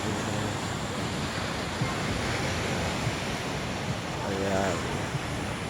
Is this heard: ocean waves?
yes